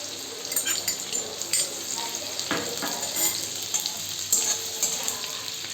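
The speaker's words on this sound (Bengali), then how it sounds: "তেলের মধ্যে আমি এই রসুন কুচি করে রেখেছিলাম সেইগুলোকে দিয়ে দেবো" Chopped garlic and ginger hit hot oil in a pan for Bengali egg chilli, giving a steady close sizzle and crackle with stirring scrapes throughout and no talking.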